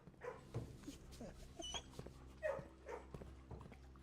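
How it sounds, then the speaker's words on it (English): A dog barks and whimpers in the Blue Prince video game, several short yelps and barks scattered across the moment, moderately close with soft game sounds underneath. "Dog."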